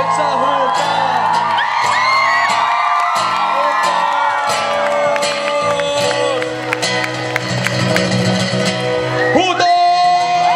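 A concert crowd in a sports hall in Haapavesi, Finland, shouts and whoops loudly and continuously, with scattered yells and cheers rising over a steady roar of many voices.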